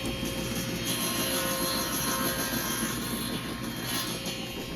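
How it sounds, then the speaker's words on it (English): Table saw with a crosscut sled trimming cherry and maple desk legs to final length, a loud steady whirring drone of the blade running throughout with no talk. "I can then take the legs over to the table saw and cut them down to their final length using my crosscut"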